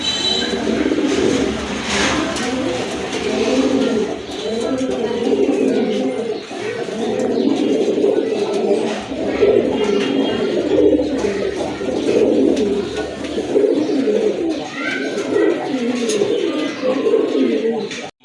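Pigeons coo repeatedly nearby, their low throaty calls overlapping in a steady rhythm from start to finish.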